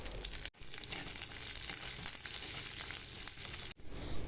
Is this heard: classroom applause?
no